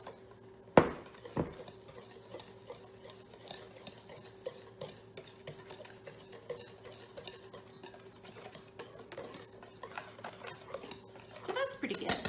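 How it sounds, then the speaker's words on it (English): Dry ingredients for banana bread whisked in a bowl, a steady busy rhythm of wire tines ticking and scraping against the bowl, with one sharp clack near the start and a voice speaking now and then. "I'm going to whisk those together to mix it up"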